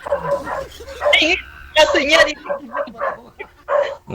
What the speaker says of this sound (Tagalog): Maingay ho kasi yung aso